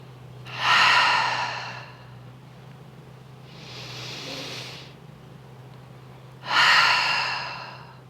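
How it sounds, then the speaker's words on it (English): Deep belly breaths during a breathing exercise: a loud, close airy inhale, a softer exhale, then another strong inhale, each lasting about a second or two over a faint low hum. "So your breathing might look like this."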